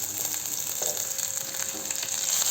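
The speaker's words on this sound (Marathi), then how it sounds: "तेल गरम झालेलं आहे। यात जीरा घालू, अर्ध्यातून अर्धा चम्मच। यात कांदे घालू।" Onions and cumin seeds fry in hot oil in a home kitchen while an aloo paratha filling is cooked, giving a steady, close, even sizzle with a few faint stirring scrapes and no talking.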